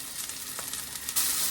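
Duck breast (magret) sears skin-side down in a hot pan, a soft steady sizzle and crackle of rendering fat, with a brief louder hiss near the end.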